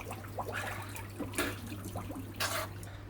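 Water splashes and trickles while an aquarium filter tank is being set up, with irregular bursts of spilling and dribbling over a low steady hum, close by and fairly quiet.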